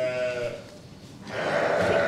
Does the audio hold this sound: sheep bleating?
yes